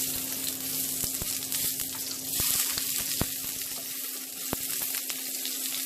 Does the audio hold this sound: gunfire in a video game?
no